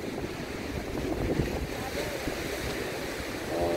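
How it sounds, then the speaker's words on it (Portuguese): Ocean surf at rising tide on the beach at Boa Viagem in Recife, a steady broad wash of breaking waves and spray with wind noise, continuous and fairly close, no speech. "a maré está enchendo, a gente fica sentindo as gotinhas aqui das ondas."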